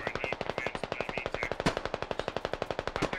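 In the video game Squad, a BTR vehicle's machine gun fires a long, rapid and steady burst of evenly spaced shots, heard at a moderate distance with faint voices underneath.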